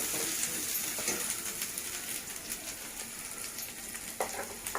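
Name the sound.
chole masala gravy sizzling in the pan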